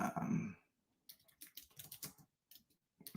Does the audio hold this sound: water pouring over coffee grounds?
no